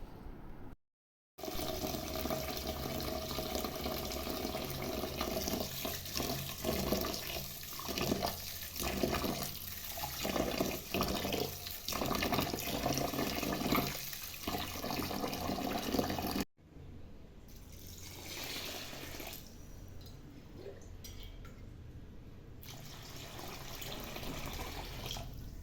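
Soaked red rice and urad dal with a spoon of fenugreek being rinsed in water, a steady close splashing and sloshing that runs on without a break and then drops to a softer trickle near the end.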